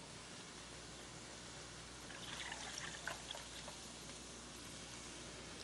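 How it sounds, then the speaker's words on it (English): Soy milk poured into a measuring cup in a kitchen, a faint, steady trickle that grows a little in the middle and stays soft, with no talking. "Going to add the soy milk."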